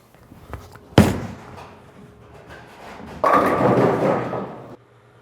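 A bowling ball thrown down a lane: a sharp thud as it lands, then a steady rolling rumble. Near the end a louder, broader crash sounds as it reaches the far end.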